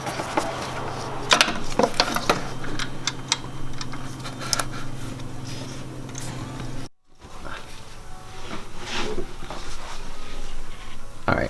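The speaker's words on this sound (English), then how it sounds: "Next thing we're going for down here is to loosen up the belt." Ratchet working to loosen the power steering belt tensioner on an Infiniti G35, a run of close clicking pawl strokes in bursts with metallic clanks and a brief pause midway.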